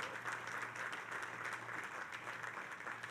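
Applause for NHL Commissioner Gary Bettman at the New York Islanders' groundbreaking for their new arena at Belmont Park, a steady, dense crowd clapping that holds evenly throughout without letting up.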